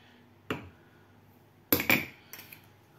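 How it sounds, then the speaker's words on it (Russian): Metal spoon clinks as sugar is spooned into a jar for a cherry liqueur made with moonshine, about three sharp close taps and rattles with quiet pauses between. "Сюда же насыпаем 2 ложки, вот такие хорошенькие ложечки сахара."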